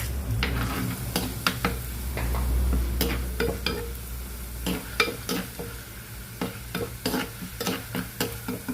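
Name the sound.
green chilli, ginger and garlic frying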